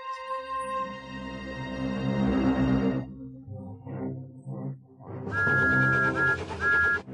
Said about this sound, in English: Then Emily heard Thomas's whistle